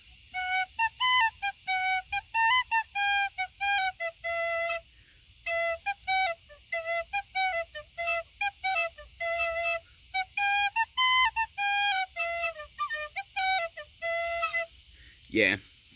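An Irish tin whistle plays short, repeated note patterns in quick bursts separated by brief pauses, bright and close, with one puff per note and no talking over it.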